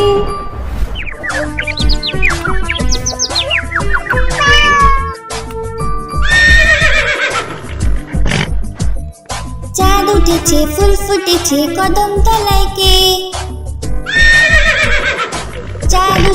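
A cartoon horse neighs and whinnies amid a bouncy Bangla nursery rhyme, the sung melody and bright music running loud throughout, with faint bird chirps mixed in.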